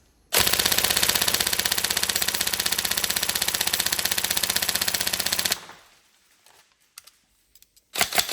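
A Tokyo Marui M4 SOPMOD next-generation recoil shock airsoft rifle fires one long full-auto burst of rapid, even mechanical clacks for about five seconds, loud and close, then goes quiet except for a few handling clicks and a short final rattle.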